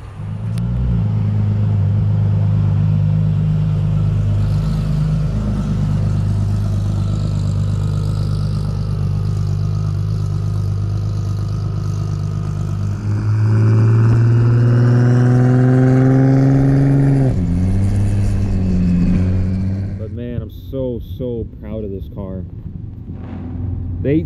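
A drag car driving away from a Bradenton drag strip, its engine droning loud and steady inside the cabin, rising in a revving surge before easing off, with a brief burst of talk near the end.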